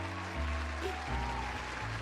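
Applause and cheering rise from patrons in a video game pub, a loud steady crowd wash over low sustained music notes.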